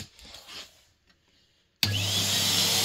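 After a moment of quiet handling noise, a Henry vacuum cleaner with a carpet turbo brush switches on abruptly and runs with a loud, steady, hissing roar.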